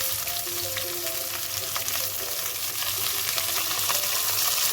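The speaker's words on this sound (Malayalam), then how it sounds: "പച്ചമുളകും ഇടാവേ, കരിയാപ്പിലും കൂടെ" Green chillies and curry leaves fry in a pan with a constant close crackling sizzle and a few faint stirring movements underneath.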